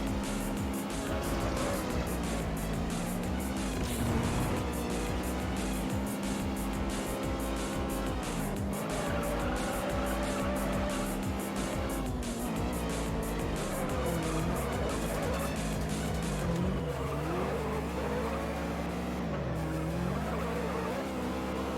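Rear-wheel drive race cars in the racing video game Juiced roar continuously through a lap, with engines rising and falling through gear changes and tires squealing in the corners.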